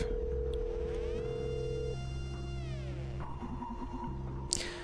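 A phone call being dialed in The Red Strings Club video game: a steady tonal beep, then a sweeping synthetic warble and repeated short electronic tones over a droning background, ending with a brief click.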